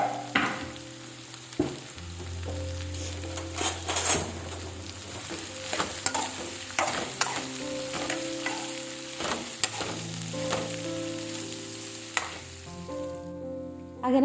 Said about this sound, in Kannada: ಆನಂತರ ನಾನು ಈರುಳ್ಳಿ ಮತ್ತು ಕರಿಬೇವು ಸಾಸಿವೆನ ಹಾಕಿ ಅದನ್ನು ಚೆನ್ನಾಗಿ ಬಾಡ್ಕೊತೀನಿ